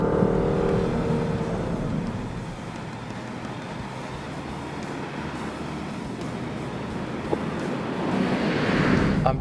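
A Lexus IS350 F-Sport sedan on the move, a steady engine drone mixed with road and wind rush heard from inside the cabin, rising slightly in intensity toward the end.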